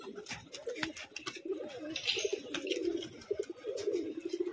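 Roller pigeons coo softly in a series of repeated low, throaty phrases, faint and close-by amid light background rustling.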